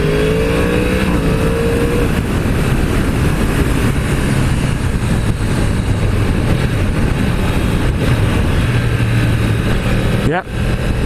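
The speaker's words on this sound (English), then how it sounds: "So I'm in second gear. I've not tried the quick shifter yet, so we'll give that a go while we're at it." A 2016 Yamaha YZF R1 motorcycle accelerates hard in second gear to overtake a car, its engine roaring loud and close under heavy wind rush, with a sharp gear change near the end.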